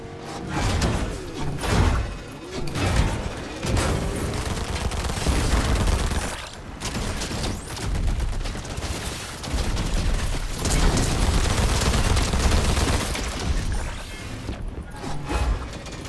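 Dense bursts of gunfire from the Fortnite video game (Chapter 5, Season 4) rattle through most of the stretch, with loud volleys broken by brief lulls and clanking effects.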